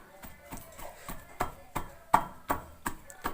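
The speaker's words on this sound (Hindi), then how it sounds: "इसको अच्छी तरह कूट के मया बना लें।" Garlic is pounded into a paste for chutney, with repeated dull thuds landing roughly every third of a second, close and moderately loud, and no voice over them.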